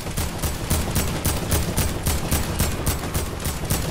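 Rapid bursts of gunfire from an Xbox shooter game, a steady rattling barrage with regular shot pulses running throughout, loud and close with no talk.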